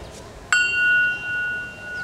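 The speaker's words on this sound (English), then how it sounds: "Ed Hoxie will now ping the bell." A bell struck once at an outdoor Memorial Day ceremony, giving a single clear ding that rings on with a long, steady sustain and slowly fades against quiet background noise.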